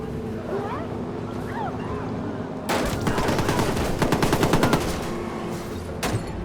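Rapid automatic gunfire from a Watch Dogs shootout at a depot, loud bursts of rattling shots starting partway through and continuing over a steady background ambience.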